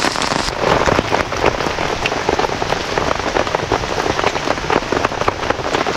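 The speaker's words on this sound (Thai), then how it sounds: "ฝนตกหนักเกิน" Heavy storm rain pours down in a forest, a loud, dense, unbroken hiss of drops striking surfaces close by, with no voices over it.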